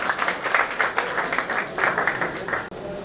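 An audience at a mushaira poetry gathering in Bhiwandi claps to welcome a poet to the stage, a close, steady round of applause in rhythmic bursts with a few voices mixed in.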